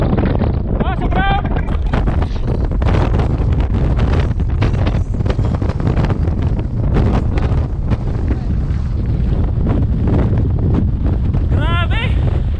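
Loud, continuous wind buffeting the microphone on an Alpine mountain pass, with heavy rumbling gusts; faint voices come through in the background.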